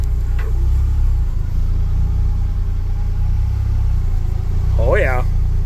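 A brand-new ATV with a 1500cc steel belt transmission runs with a steady, close engine rumble that holds evenly throughout, and a voice briefly speaks near the end.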